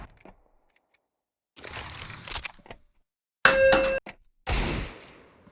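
A doorbell rings at the door during a Counter-Strike 2 match: a short, bright ding with a sustained ring, set among clanking bursts and brief gaps of silence.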